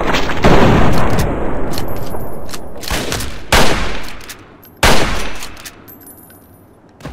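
Gunfire from a weapon in the video game Fallout 3: loud, dense shooting with sharp bursts near 3.5 and 4.8 seconds, followed by scattered shots, with no talking over it.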